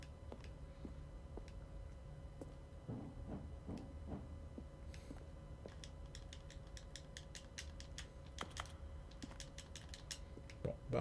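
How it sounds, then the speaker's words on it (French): Sparse keyboard typing clicks come from a screen button in The Stanley Parable Ultra Deluxe, quiet scattered taps over a low hum, with a denser cluster toward the end. "quand j'appuie sur le bouton, ça fait plus des bruits de clavier"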